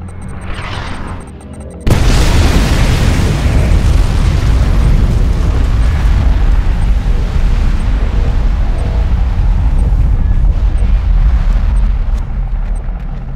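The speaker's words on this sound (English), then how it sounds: "Nuclear missile launched." A nuclear missile strike in Command & Conquer Kane's Wrath lands as a sudden, very loud blast after a brief quieter lead-in, then swells into a long, heavy, rumbling roar that holds steady to the end.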